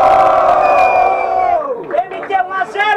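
A crowd at a student rap battle in Guarulhos, Brazil, roars with cheers and shouts. A single loud voice comes first, then bursts of collective whooping and yelling follow close by.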